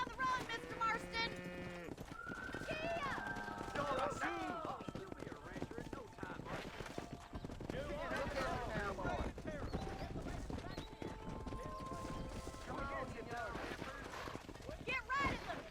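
Horse hooves clip-clop steadily through a cattle drive in the video game Red Dead Redemption, with cattle lowing and in-game voices calling out over the constant hoofbeats.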